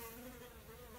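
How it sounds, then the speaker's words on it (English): A wasp buzzes close by during woodworking, flying near a dry-fitted wine rack carcass in a workshop; a steady, whining insect drone holds throughout, fairly faint but continuous. "Wasp."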